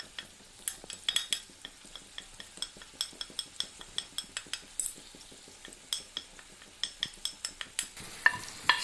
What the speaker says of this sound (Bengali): সবগুলো উপকরণ ভালো করে মিশিয়ে নিতে হবে।